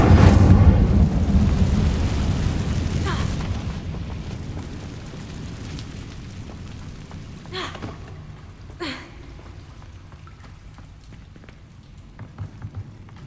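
An Incendio fire spell blast in the game Hogwarts Legacy, a loud whooshing burst at the start that decays into a long rumbling fade, with a few sharp flicks and crackles afterward.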